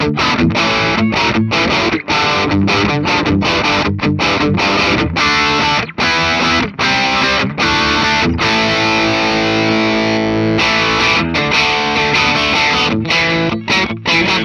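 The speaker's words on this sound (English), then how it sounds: "There's some nice lead tones out of this neck pickup." A 2014 Gibson Les Paul Custom Lite electric guitar plays distorted lead lines on its neck pickup, a loud, sustained, singing tone with quick note changes and occasional held notes.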